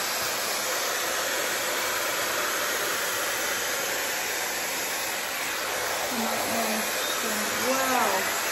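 An Airpro hot air hair styler runs at full power and full heat, a loud steady whooshing roar heard close up, with a voice briefly speaking near the end.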